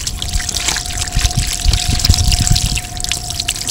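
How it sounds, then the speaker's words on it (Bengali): Running water trickles and splashes steadily while palm fruit is rinsed clean by hand, a close, continuous wash with no speech. "ধুয়ে নিলাম পরিষ্কার করে"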